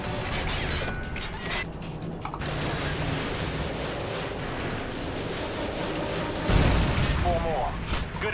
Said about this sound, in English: AGM missile is online.